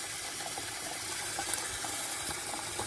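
Water pours steadily into a new kettle, a continuous gushing splash with faint hollow gurgles.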